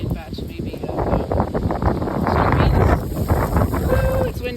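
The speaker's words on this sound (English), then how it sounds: "Woo, it's windy" Strong wind gusts roar across the microphone in a home vegetable garden planted with fall beets and soybeans, a steady loud rumbling buffet with brief faint tones near the end.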